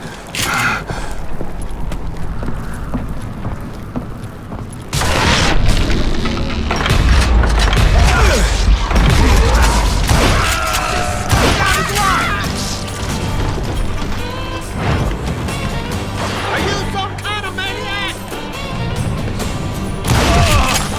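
Dynamite explosions in the Western shooter Call of Juarez: Gunslinger, heavy booms and crashing debris with thuds and clatter in a dense, loud barrage that continues throughout, with game voices talking intermittently.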